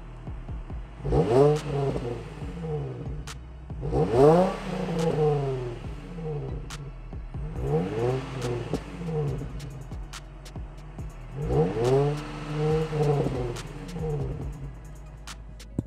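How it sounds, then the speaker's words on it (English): Ford Fiesta ST150 exhaust revving while parked, a series of about four rising and falling blips separated by quieter idle, fairly close and moderate in level. "So I'll set this up, do a little exhaust clip."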